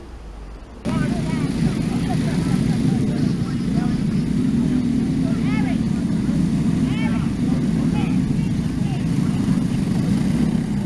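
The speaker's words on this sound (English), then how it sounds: "dirt track flat kart racing" Flat kart engines race on a dirt track in Louisiana, a loud, steady buzzing drone that kicks in after a short moment and holds throughout, with passing whines rising and falling over it.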